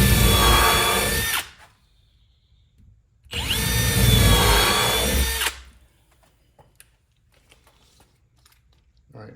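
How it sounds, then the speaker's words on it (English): A power drill with a 3/16 inch bit pre-drills a 2x4 in two bursts of about one and a half and two seconds, separated by a pause, with quiet handling clicks afterward. "We're gonna get this pre-drilled here real quick."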